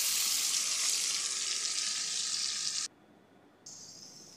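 A large tomato frying in a pan for a cauliflower dish, giving a loud, steady broadband sizzle that cuts out abruptly for a moment before resuming slightly quieter.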